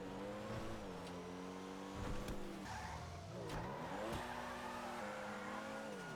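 Comet Retro Custom sports car driven in GTA 5 Online at night, its engine revving up and down through gear shifts with brief tire squeals, loud and close throughout.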